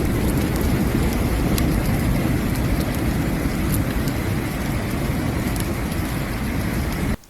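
Heavy hail and rain pound surfaces during a hailstorm in Turkey, a loud, dense, continuous clatter with scattered sharper impacts, steady throughout before cutting off abruptly at the end.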